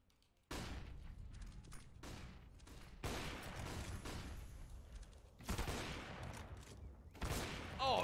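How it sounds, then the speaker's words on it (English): Gunfire in a Counter-Strike esports match, with loud bursts of rapid shots and booming impacts in several waves, continuous and dense, with little talk audible. "shots from OC hitting them left and right"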